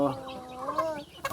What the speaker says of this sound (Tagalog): Ani pagtula mga manok